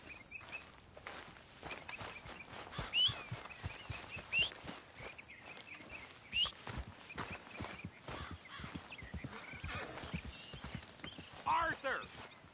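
Horse hooves clip-clop at a walking pace in a video game set in Rhodes, moving closer over scattered bird calls, with people talking throughout.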